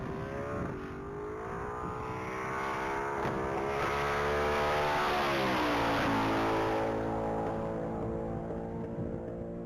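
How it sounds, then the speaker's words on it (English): A 2015 Ford Mustang at the Texas Mile top speed event accelerating hard on a half-mile pass, its engine roaring steadily through rising gears as the tone climbs and shifts, loud and continuous with no voices. "that Mustang is actually doing half-mile passes"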